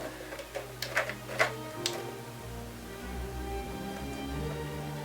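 A Gina K Fuse foiling machine runs with a few irregular clicks and ticks up front, then settles into a low steady motor hum.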